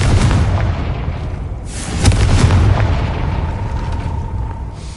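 Fire-spell blasts from Hogwarts Legacy's Confringo boom loudly, one heavy explosion landing about two seconds in amid continuous rumbling, with no talking.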